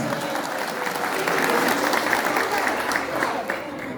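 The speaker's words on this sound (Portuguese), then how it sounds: "Parabéns para ele, uma salva de palmas." A round of applause from an audience at a marriage event, a full, continuous roar of clapping that swells slightly midway and holds steady, loud and close.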